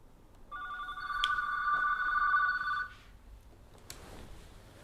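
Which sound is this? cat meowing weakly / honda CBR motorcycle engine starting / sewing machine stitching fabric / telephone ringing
telephone ringing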